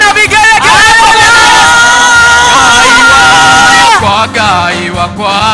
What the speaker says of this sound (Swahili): makofi ya juu, shangwe na vigelegele.